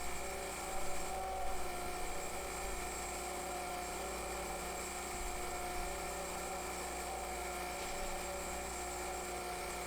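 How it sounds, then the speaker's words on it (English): A grinding wheel cuts steadily across a flywheel during reconditioning, giving a continuous high whine and hum that stays even and unbroken throughout with no talk. "Now slowly bring down the grinding wheel until it starts to cut onto the flywheel."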